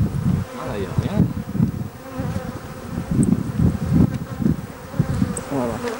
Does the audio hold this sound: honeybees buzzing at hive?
yes